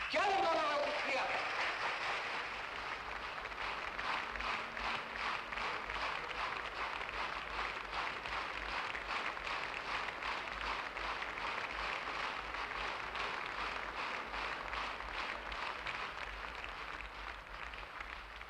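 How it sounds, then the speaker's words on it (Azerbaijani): An audience applauds at a gala evening honouring an actress in a 1974 television film, sustained even clapping heard at a distance and fairly faint, with a little voice near the start. "Gəlin ona alqışlayaq!"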